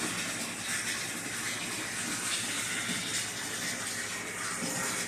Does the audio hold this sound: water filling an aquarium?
yes